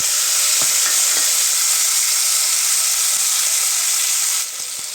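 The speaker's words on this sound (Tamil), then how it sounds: "நல்லா வதங்கிட்டுருக்கு." Small onions (shallots) with fennel seeds sizzle loudly and steadily in a hot pan for a pea kurma, a dense frying hiss broken by a few faint stirring taps near the end.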